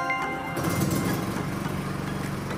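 A grinder powered by a Philking inverter generator runs steadily, a continuous mid-pitched motor whine with engine drone beneath, alone and fairly close.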